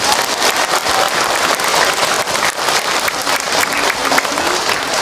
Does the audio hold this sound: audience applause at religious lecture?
yes